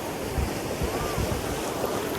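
Sea waves rolling in as the tide rises, a steady close roar of surf with low rumbling surges and heavy wind buffeting, alone without talk.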